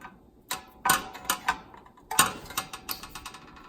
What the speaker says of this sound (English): Now I'm just simply going to push it down, all the way down on the spade connectors for the new unit.